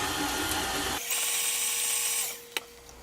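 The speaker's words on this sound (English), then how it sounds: "I'm just going to mix this up" An electric hand mixer whirs steadily as it beats mashed banana into a butter mixture for banana bars. It starts mid-blend, jumps to a higher, strained pitch after about a second, then slows and winds down, ending with a short clack.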